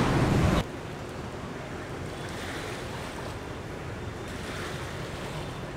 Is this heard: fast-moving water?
yes